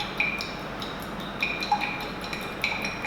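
Glass test tube holding sodium hydroxide solution being shaken to mix, giving light repeated clinks and ticks of glass scattered across the moment, fairly close and quiet, with no voices.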